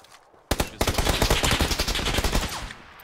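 A dense burst of rapid automatic gunfire in the battle royale game PUBG, loud and continuous for a few seconds after a sudden onset, with overlapping shots and no talking.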